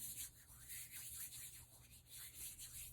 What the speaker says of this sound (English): And I rub my hands together